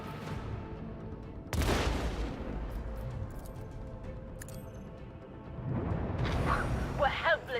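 A starship weapon battery fires a volley in the Warhammer 40K Rogue Trader video game, two heavy booming blasts with rumbling tails and crackling debris, loud and close.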